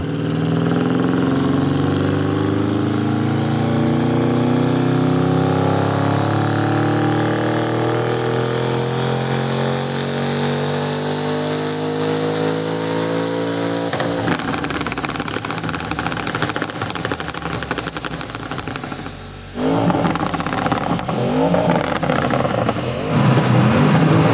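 An Audi RS6 engine, heard loud and close, rising in pitch as it revs up and holds high for several seconds, then dropping back to a rough, burbling idle with more blips of throttle, no talk.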